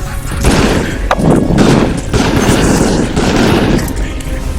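Gunfire in the VR shooter Raw Data, a loud dense barrage of booming shots and impacts overlapping each other throughout, with a voice briefly heard in the mix.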